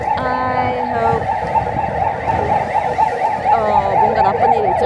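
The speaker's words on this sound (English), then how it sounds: "And ambulance is coming." An ambulance siren passes along a busy Seoul street near the Hangang riverside during a silent disco party, its wailing tone rising and falling steadily over continuous crowd and traffic noise.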